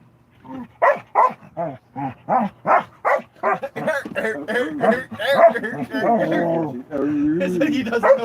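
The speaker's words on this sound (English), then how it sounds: "It's like he doesn't know how to bark." A dog gives a quick run of short, regular barks that sound oddly soft and weak, then they blur into a busier stretch with people speaking over them.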